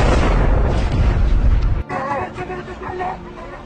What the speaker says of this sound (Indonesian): sebuah bom besar jatuh tepat di jalan utama, menciptakan lubang besar di tanah